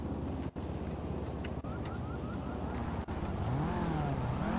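A motorcycle in a GTA roleplay video game rides along with a continuous engine drone and rising revs, accompanied by wind-like rush and a few brief dropouts, with no talking.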